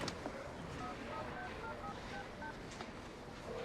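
A telephone is dialed in a film scene: a quick series of short, evenly spaced touch-tone beeps over a steady background hiss.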